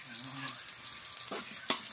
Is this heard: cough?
no